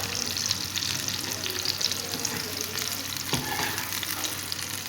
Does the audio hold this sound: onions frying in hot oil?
yes